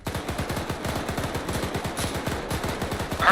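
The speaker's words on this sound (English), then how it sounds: "Follow the machine gun fire." Sustained automatic machine gun fire in the military shooter Arma 3, a rapid steady stream of loud bursts running throughout with no pauses.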